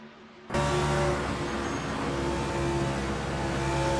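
NASCAR stock cars racing at Motegi in the video game Assetto Corsa, heard as a sudden loud onset of engine roar that holds as a steady, close, droning hum with strong tonal whine.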